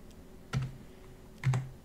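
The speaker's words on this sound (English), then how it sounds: "so I'm going to type that in." Keystrokes on a computer keyboard while a passphrase is entered, heard as two short bursts of clicks about a second apart, quiet and close.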